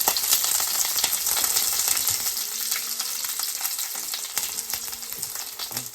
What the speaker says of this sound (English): Now I'm gonna add this deep fried pepper and mixing all together.